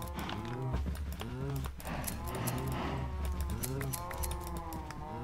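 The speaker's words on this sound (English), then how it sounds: "and now there's a bunch of cows." Cows mooing in a Minecraft modpack game, several overlapping low drawn-out moos repeating close together over a steady background, no speech.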